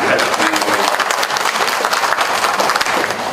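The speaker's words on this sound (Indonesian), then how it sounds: "Boleh tepuk tangan" Audience applause fills a hall during a discussion event on poverty reduction, steady dense clapping from a sizable crowd with a faint voice underneath.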